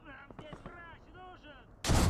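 A Panzer IV tank cannon fires in the World War II game Gates of Hell, one loud sudden blast closing out the moment after someone speaks.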